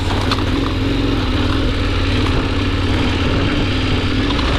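A KTM 1090 Adventure motorcycle engine drones continuously while the bike is ridden over rough, wet, rocky trail, a steady close-up roar with wind noise and no pauses.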